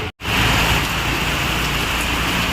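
Heavy rain pours down in Guwahati, a steady, loud, dense hiss that continues unbroken after a brief dropout at the start, with no voices.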